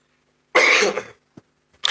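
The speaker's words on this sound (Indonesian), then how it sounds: "maaf saya batuk dulu" A single sharp cough close to the mic, followed by a tiny click and the start of another short cough.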